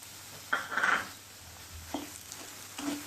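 Bansi rava roasts in a quarter cup of ghee over medium flame as it is stirred, with a few short scraping and sizzling bursts between quiet gaps.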